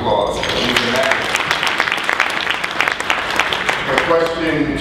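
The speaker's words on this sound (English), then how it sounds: "We should give them a round of applause." Audience applause at a business conference panel, a continuous, close crackle of many hands clapping that fills the whole clip, with a voice audible at the start and end.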